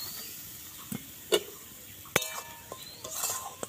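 Flour stirred in a little hot oil in a heated wok, quiet scraping and a few sharp metallic clinks of a spatula against the pan over a faint sizzle, with no talk.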